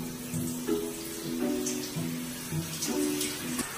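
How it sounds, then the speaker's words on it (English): Shower water runs in a steady spray, with hissing and splashing as someone moves under it, and low rhythmic rumbles pulse through the flow. "I'm in the shower, and I'm about to go under the water with my paint on."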